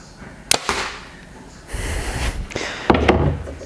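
A Bowtech Revolt compound bow releases an arrow with a sharp snap, followed by a short thud and a rush of noise, then a second sharp crack and impact, close and loud.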